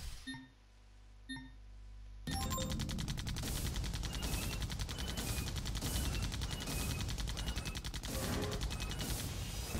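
Rapid gunfire from a mech shooting in the game AirMech starts after a couple of soft beeps, then rattles on in a dense, steady stream of shots with periodic louder bursts.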